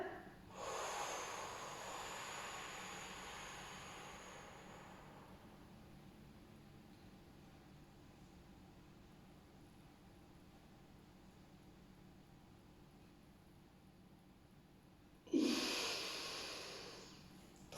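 A deep breath drawn in during a low pressure fitness exercise, an airy hiss that swells early and then fades, followed by another sharp inhale near the end, with no talking.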